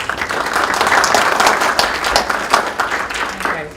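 Lecture audience applauding at a university talk, a steady loud wash of many hands clapping for several seconds before fading slightly at the end.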